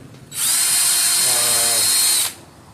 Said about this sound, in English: This is a mixer that we use with our drill